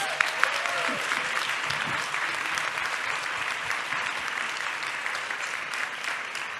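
Steady, dense applause from a seated forum audience, a continuous wash of clapping that holds evenly throughout without pause.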